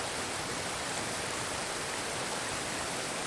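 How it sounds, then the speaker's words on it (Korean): Steady, dense rushing of a 5-metre valley waterfall, a constant broadband roar with no variation or voices. "계곡 안쪽으로 들어가면 5m 높이의 원앙 폭포가 시원한 물줄기를 내뿜습니다"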